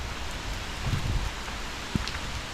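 Rain falls steadily outdoors on a foggy mountain road near Newfound Gap in Tennessee, a soft continuous hiss with a few louder drops and a brief low thump, no voices.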